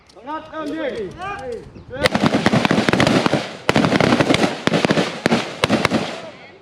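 Military rifles fire fast, overlapping shots at a Thai marine ranger rapid-fire shooting drill. Loud, sharp cracks ring out for several seconds after a voice calls out at the start.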